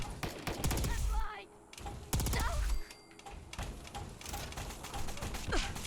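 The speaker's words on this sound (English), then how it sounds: "Everybody's got extremely powerful sniper rifles that stagger." Rapid bursts of heavily modded sniper rifle gunfire in Fallout 4, loud rattling volleys in two clusters with mechanical clatter between them, under someone talking.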